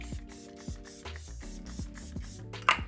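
A can of airbrush setting spray for makeup is shaken with a run of rattling clicks, followed by a short hiss of spray near the end, close and fairly quiet.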